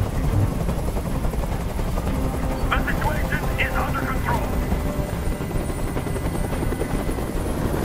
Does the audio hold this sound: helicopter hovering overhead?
yes